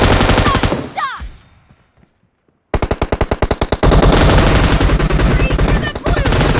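Golden machine gun fire in a multiplayer video game rattles in loud rapid bursts, cutting off for about a second before resuming as a sustained dense volley, with a voice talking over it.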